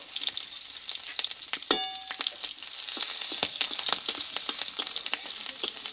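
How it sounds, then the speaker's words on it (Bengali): Whole cumin, crushed ginger and three green chillies crackle and sizzle in hot oil, with a dense stream of close popping spatters and a sharp burst early on, and no talking. "তেলটা গরম হয়ে গেছে তেলে দেবো হাফ চামচ মতো গোটা জিরে আর দেবো থেতে পড়া আদা"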